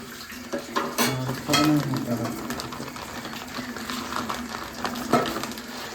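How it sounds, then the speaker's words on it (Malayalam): A cooked chapati is moved from the pan into a dish in a home kitchen, with light clinks and scrapes of cookware and utensils while someone talks over the sounds. "ഒരു ചപ്പാത്തി റെഡി ആയിട്ടുണ്ട് പാത്രത്തിലോട്ട് മാറ്റണം"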